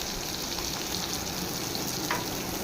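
Cumin, green chilies, curry leaves and plenty of onion frying in hot oil give a steady, close hiss that runs unbroken, with one faint utensil tap near the end.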